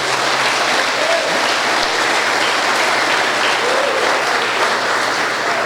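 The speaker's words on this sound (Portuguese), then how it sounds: "Dá uma salva de palmas para Jesus." A church congregation bursts into loud, sustained applause, with dense, even clapping filling the space from start to finish.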